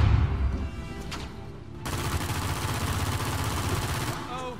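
Gunfire in Uncharted 4 during a firefight, a rapid sustained burst of automatic shots after a brief quieter lull, with a final trailing rattle.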